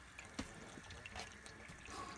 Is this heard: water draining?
yes